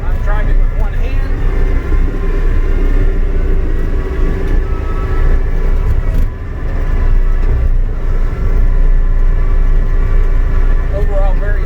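Steady, loud engine drone and rumble from inside the cab of a John Deere 331G compact track loader as it drives, with someone talking over it throughout.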